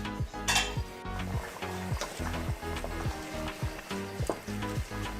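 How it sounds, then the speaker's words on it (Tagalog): Pork pochero with pork and beans being stirred in a pot, with a spoon scraping and clinking against the metal in a repeated rhythm over a soft sizzle and bubbling. "Occasionally, I mix it."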